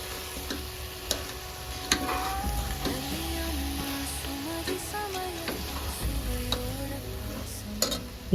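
Masala for a traditional Tamil dry fish curry sizzles softly in a pan while a spoon stirs and scrapes through it, with small clinks and ticks over a steady low frying hiss, close and fairly quiet.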